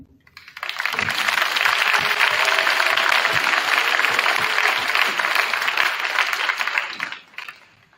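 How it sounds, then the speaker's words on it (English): A school gym crowd applauds students at a state sendoff and recognition event, a dense, sustained roar of clapping that swells in quickly, holds steady for several seconds and then fades out. "One more round of applause for all the students we recognize today."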